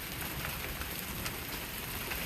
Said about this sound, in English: then it went to rain, fast rain, then it went slow rain, then it hailed again